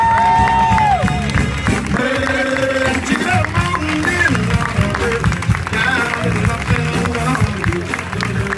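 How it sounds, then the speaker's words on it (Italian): A crowd applauds and cheers dancers from the Cohiba Club dance school of Parma at a 2014 show in Boretto, with loud, dense clapping mixed with whoops and bright musical tones throughout. "Si prendono volentieri il vostro calorosissimo applauso."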